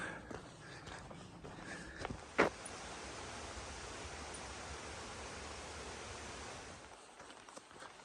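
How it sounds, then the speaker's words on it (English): Steady broadband rushing of mountain streams along the Appalachian Trail, constant and soft, with a single brief knock partway through. "You can just hear water running everywhere."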